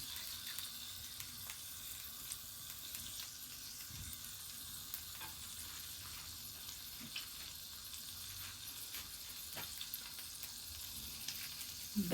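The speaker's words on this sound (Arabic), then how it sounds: "غنخليو اللحم هكا يتشحر لينا" Meat sears in a pan for a Moroccan vegetable tagine, giving a steady, even sizzle with occasional faint pops and clinks. It is heard close and alone with no talking.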